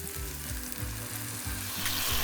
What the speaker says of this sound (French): on fait revenir nos tofu dans l'huile de chaque côté